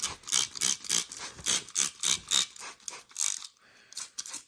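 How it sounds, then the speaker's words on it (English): A spray bottle mists plain water onto seed-starting soil for giant pumpkin seeds, a run of about a dozen quick bright hissing squirts in an uneven rhythm, close and alone. "take the spray bottle, just water, and we're just going to mist the top"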